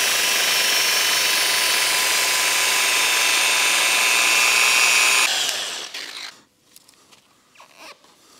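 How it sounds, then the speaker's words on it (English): A car polisher spins at 1500 RPM on automotive paint during wetsand-and-polish detailing, a loud steady whir that runs for about five seconds, then cuts off abruptly, leaving quiet handling noises. "My speed on the polisher is gonna be"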